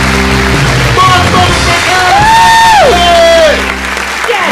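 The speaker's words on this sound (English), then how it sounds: "Long ass applause." A comedy club audience applauds a comedian taking the stage, a loud, dense wash of clapping and crowd noise with a sustained whoop-like cheer rising over it.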